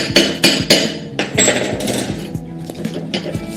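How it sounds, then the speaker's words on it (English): A chipping hammer knocks slag off a weld in a quick run of sharp metallic taps, close and fairly loud, irregular at first, then settling into lighter, faster strikes with no voices. "You can do this with a chipping hammer,"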